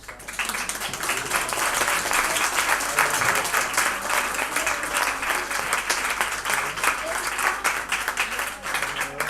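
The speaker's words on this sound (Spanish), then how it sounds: "Vamos a darle un aplauso" An audience applauds at a musical presentation of a Christmas audio story, a full, even round of clapping that runs steadily for about nine seconds, with a few voices faintly under it.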